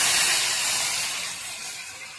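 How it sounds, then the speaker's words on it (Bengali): Water poured into a hot pan of spices, giving a loud, close, bright steam hiss that fades slowly over about two seconds. "এখন আমি জল দিয়ে দেবো"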